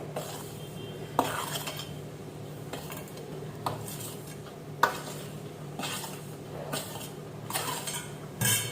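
Rice flour mixture being stirred in a pan over a low gas flame for Punjabi rice pinni, with a spoon scraping and clinking against the metal in repeated strokes over a soft, steady background.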